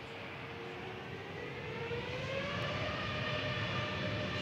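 British Airways Airbus A321neo lining up for takeoff at Manchester Airport, its engines a faint, distant steady hum with a thin whine that slowly rises in pitch.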